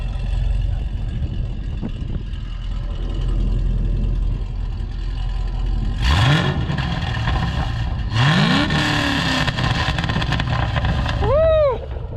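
Chevrolet SS V8 with ARH long tube headers, idling with a deep burble before three sharp revs rise and fall, the exhaust loud and close, the last rev a quick high blip.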